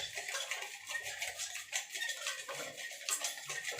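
Coconut ice cream ingredients are mixed in a pot, a quiet, continuous run of light metallic clinks and scrapes from a utensil against the pot.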